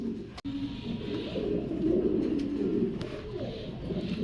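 High flying fancy pigeons coo softly and continuously, with a faint murmur of birds and background noise throughout and one short click near the start.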